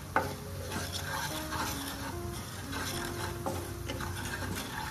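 Spices including turmeric, coriander powder and misal masala being stirred into a masala in a pan, a continuous close sizzle with scraping strokes of the spoon.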